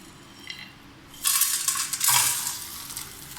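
Whole spices for homemade garam masala fry in a pan over a slow flame. After a quiet start, a bright, steady sizzle rises suddenly and continues with stirring scrapes, close and clear, with no talking.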